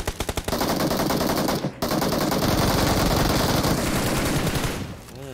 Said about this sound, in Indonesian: Tembak semua bro. Abiskan peluru kalian bro.